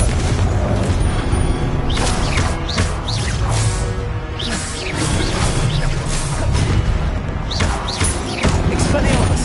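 Spell blasts and booming impacts from Confringo in a Hogwarts wizarding video game, repeated crashes and whooshes in a dense, loud combat mix with a voice calling out incantations over them.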